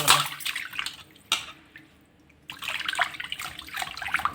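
Water splashing and trickling as fish are washed by hand, close sloshing bursts with a quieter dripping pause in the middle before the splashing resumes.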